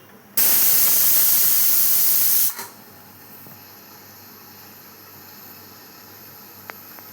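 Pressure cooker cooking chicken lets out a loud, steady rush of steam hiss for about two seconds, then cuts off abruptly into a quiet room.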